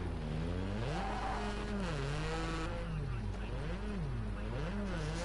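Race cars in the video game Rally Fighters drone steadily with rising and falling engine pitch as they run through corners, a continuous far-off roar under constant background hiss.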